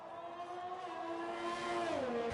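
A Formula 1 car in F1 2020 accelerates through a corner at Bahrain with its rear wing open, a steady, fairly faint high engine whine that holds, then drops in pitch near the end.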